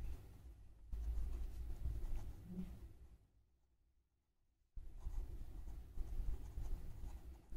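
Pen or marker scratching continuously on paper as a maths formula is written out by hand, close and steady, with a short pause partway through before the writing resumes.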